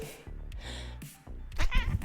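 A cat named Mochi meows several times in quick succession, close and fairly loud, with drawn-out, wavering cries.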